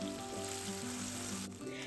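Blended pepper mix fries in palm oil over medium-high heat, giving a continuous dense sizzle and crackle close up, with a low steady hum beneath and no one talking.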